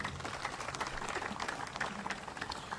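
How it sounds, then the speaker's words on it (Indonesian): A religious gathering's audience claps in a steady, fairly faint patter of applause that lasts a few seconds, with no voices over it. "Boleh tepuk tangan yang ikhlas semuanya."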